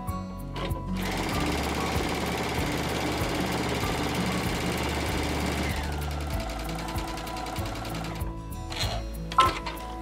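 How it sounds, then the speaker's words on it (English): A Baby Lock Crescendo sewing machine stitches through layered fabric with batting in the middle. It makes a loud, rapid mechanical chatter for several seconds, then slows and stops, leaving a few softer clicks. "I'm going to lower this presser foot here and I'm just going to sew."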